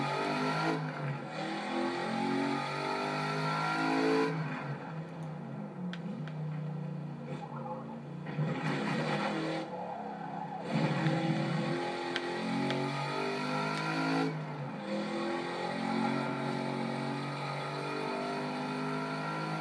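A car in a driving video game accelerates with a revving engine that rises and falls in repeated bursts, heard under someone talking throughout.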